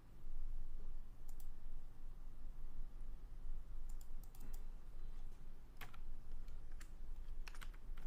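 Steady bursts of key clicks from typing on a computer keyboard, close and fairly even, with short pauses between words against a low background hum.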